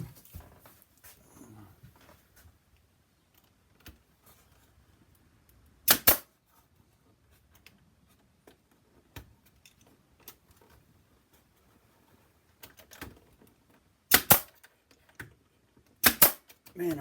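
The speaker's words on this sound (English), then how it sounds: "And I need my nail gun." A nail gun driving long nails into a wooden planter, several sharp, loud cracks spaced seconds apart, some in quick pairs, among faint handling clatter and occasional speech.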